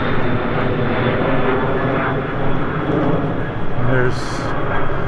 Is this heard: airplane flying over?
yes